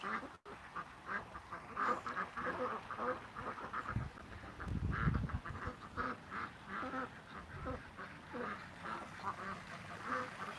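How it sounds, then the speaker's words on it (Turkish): Ducks quack steadily at evening feeding time, with repeated overlapping calls at moderate distance over a constant outdoor background and occasional louder bursts. "Ördeklerimiz böyle."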